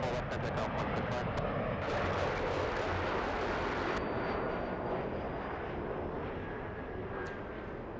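An airliner taking off from runway 24 left at LAX, a steady broadband engine roar held loud and close throughout, with a few sharp clicks at the start and a voice murmuring beneath.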